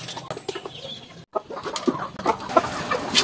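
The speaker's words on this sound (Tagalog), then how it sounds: "ito na pala yung ating mga inahin na native na manok" Native backyard chicken hens cluck repeatedly at close range during feeding, a busy, continuous flock chatter with a brief pause partway through.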